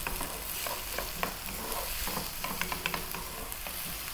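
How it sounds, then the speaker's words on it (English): Carrots and mixed vegetables sizzle steadily in a pan over above-medium heat for cottage pie, with a spoon stirring and scraping in soft irregular strokes throughout, close and fairly quiet, no talking. "I'm gonna get the carrots in now. So about a cup again, roughly equal parts. Above medium heat, 4 minutes. Give it a stir every now and then."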